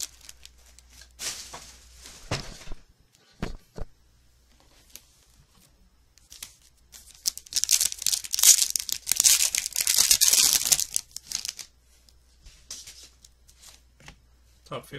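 A trading card pack is ripped open by hand: sharp crinkly tearing and foil rustle swell in a loud burst midway, set among scattered close handling rustles and brief pauses.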